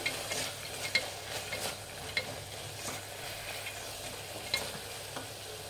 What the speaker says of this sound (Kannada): ಫ್ರೆಂಡ್ಸ್, ಬಟಾಣಿನಷ್ಟು ಫ್ರೈ ಮಾಡಿ.